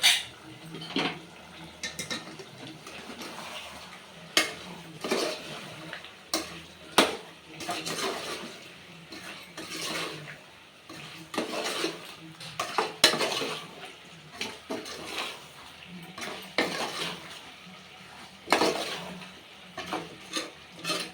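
Spices (chilli, coriander and cumin powder) stirred into chicken curry in a pot: a spoon scrapes and clinks against the metal in irregular close strokes with a faint sizzle, no voices.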